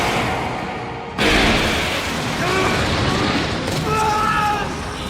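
A sudden loud boom of a magic explosion spell in an anime bursts in after a second, followed by a sustained roaring rumble with scattered crackles and bright tonal swells.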